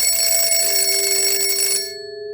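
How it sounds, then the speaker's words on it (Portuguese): A telephone rings with a dry, shrill, sustained bell tone that cuts off abruptly, leaving a faint lingering hum. "Foi quando o telefone tocou, um som seco, estridente, que cortou o ar como uma lâmina."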